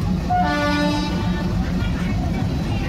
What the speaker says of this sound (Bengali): আমাদের ট্রেন এখন দুমকা রেলওয়ে স্টেশন থেকে ছেড়ে দিল